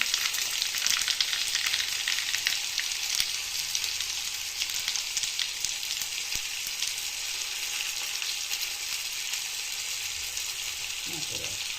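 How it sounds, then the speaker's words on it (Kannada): Mustard seeds and cumin sizzle steadily in hot oil for a Kannada-style tempering, a dense, continuous crackling fry with small pops throughout and no voices. "ಎಣ್ಣೆ ಕಾಯ್ಲಿಕ್ಕಿದೆ ಅಂತ ಇದಕ್ಕೊಂದು ಸಣ್ಣ ಚಮಚ ಸಾಸಿವೆ ಹಾಕ್ತೀನಿ, ಒಂದು ಸಣ್ಣ ಚಮಚ ಜೀರಿಗೆ ಹಾಕ್ತೀನಿ"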